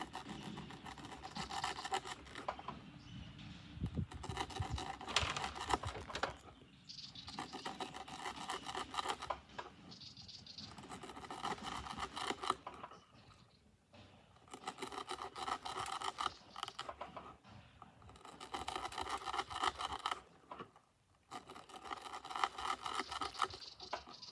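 A Brother F012 knife saws through rope in a series of rasping, scraping strokes with brief pauses between bursts, close and fairly loud, with no talk.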